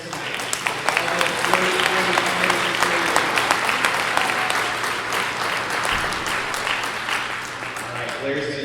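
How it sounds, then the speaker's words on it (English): An audience gives a round of applause for presenters at an evening event, dense sustained clapping from a crowd that fills the room and slowly eases toward the end. "Can we have one more round of applause for all of the presenters tonight?"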